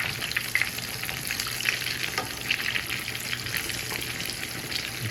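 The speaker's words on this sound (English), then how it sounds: "we'll let those fry until they get brown on the underside" Eggplant slices frying in oil for eggplant parmesan, producing a steady, dense sizzle and crackle close by, with a few faint clinks and bubbling pops throughout.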